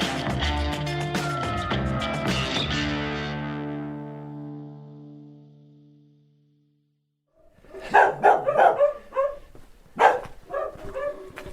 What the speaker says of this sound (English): I think I've triggered every dog in the village that's left